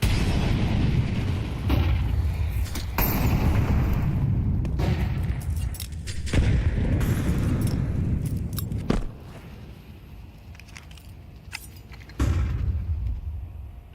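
Grenade blasts in a professional Counter-Strike match between esports teams, heard as loud, dense booming bursts with sharp onsets, the heaviest near the start and again around the middle and end, filling the whole stretch without talk.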